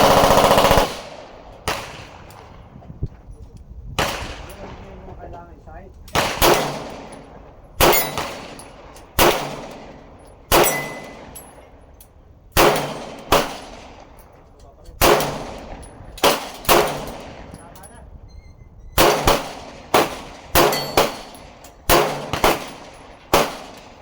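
Pistol shots from a Springfield Echelon and a Glock 19X at a range, sharp loud cracks fired singly and in quick bursts, each ringing off with a metallic echo, about two dozen shots in all.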